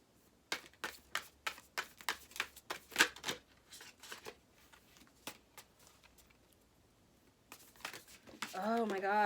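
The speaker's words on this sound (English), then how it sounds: "Oh my god, these cards just fly every fucking where." Tarot cards shuffled by hand in a quick run of crisp riffling slaps, then a few scattered flicks, followed by a person starting to talk at the end.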